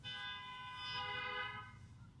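Two car horns honk together outdoors, a sustained tonal blare lasting about two seconds at moderate distance, with no talking.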